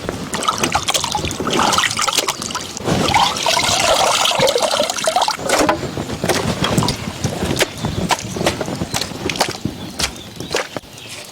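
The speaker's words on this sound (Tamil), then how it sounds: "சிக்கன் தந்தூரிக்கு வந்து கறி வெட்டியாச்சு, நல்லா அலசி எடுத்துக்கலாம்." Cut chicken pieces for tandoori are rinsed under running water, a steady splashing and trickling with sloshing and occasional clatter, close and continuous throughout.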